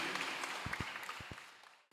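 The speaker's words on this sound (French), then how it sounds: "applaudissez s'il vous plaît, applaudissez" A congregation at a Bible teaching gathering applauds a correct answer. Soft, diffuse clapping carries through the room with a few low thumps, fading out at the end.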